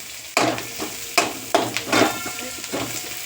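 Chopped cabbage tossed into a hot pan and stirred while frying, bursts of scraping and clattering over a soft sizzle, several distinct stirring strokes close up, no talking.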